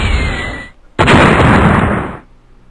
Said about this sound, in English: It is just rockets upon rockets right here.